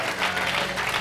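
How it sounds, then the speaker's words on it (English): A church congregation claps and applauds in praise during a sermon, a dense, even patter of many hands sustained throughout at moderate volume with no speech on top. "can we just give God an awesome praise and applause for what that's going to happen?"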